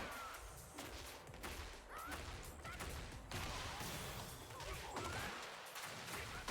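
Tekken 8 fight sounds as a combo lands: dense, overlapping hits and crashes keep coming over busy game audio with music, loud and continuous for several seconds.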